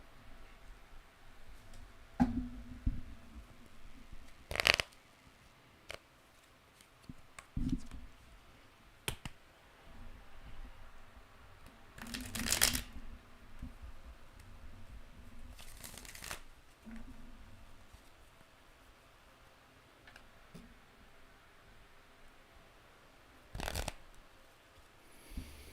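Tarot cards shuffled for a reading in a quiet room, heard as sparse bursts of riffling and soft card clicks separated by near-silence, close and fairly faint, with no talking.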